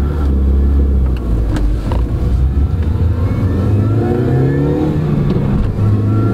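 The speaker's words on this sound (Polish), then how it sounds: "ten silnik jest taki żwawszy i ma taki charakterystyczny dźwięk" Mini Cooper S R50 accelerating hard on an open road, a loud, steady engine drone climbing in pitch through the gears, close and with no talk over it.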